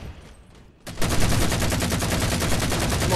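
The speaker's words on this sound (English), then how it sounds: "Oh, the gun sounds really good." Rapid sustained gunfire in a Halo 4 Infinity Slayer multiplayer match erupts loud and dense after a quiet lead-in, a steady rattling burst continuing to the end.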